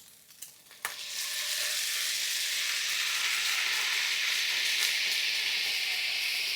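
Crushed tomatoes hit a hot pan and break into a loud, steady sizzle that holds evenly to the end, after a couple of faint clinks.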